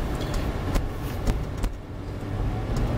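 A high-mileage car, past 90,000 miles and freshly treated with Seafoam, pulls away gently from a launch in traffic, its engine note rising as a steady rumble heard from inside the cabin.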